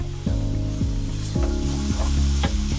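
Ground beef browns over medium-high heat in a Dutch oven, sizzling steadily and close, with a spoon scraping and stirring through it in short repeated strokes.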